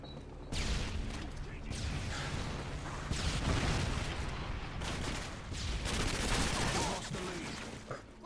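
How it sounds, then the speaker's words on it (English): Dense, continuous bursts of automatic gunfire and explosions fill an online match of Modern Warfare 2 (2009), loud and sustained with no pauses. "I got shot in the back?"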